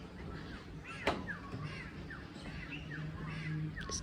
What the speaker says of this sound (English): Just a whole lot of birds and not a lot else.